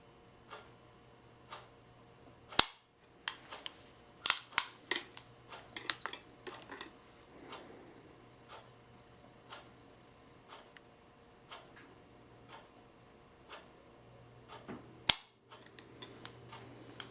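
Dry-fire trigger pulls on a Caspian Commander pistol measured with a trigger gauge, producing sharp isolated metallic clicks spaced a second or two apart, with a few louder snaps, close-up in a quiet room.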